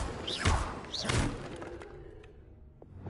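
The Expelliarmus spell is cast in Hogwarts Legacy with two quick rising whooshes, each landing on a thudding magical impact, followed by a fading shimmer and a faint tail.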